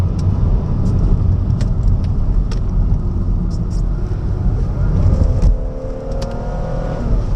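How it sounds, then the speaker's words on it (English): Steady broadband wind noise and road rumble inside a moving Jaguar X-Type 2.5 V6 SE estate fitted with wind deflectors, a continuous loud roar under the engine, with a brief tonal whine near the end. "There's a bit of wind noise going on, but it has got wind deflectors fitted"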